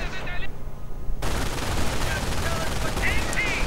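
Rapid machine gun bursts and gunfire crackle in a World War II strategy video game battle, loud and close, with a commentator talking over the action.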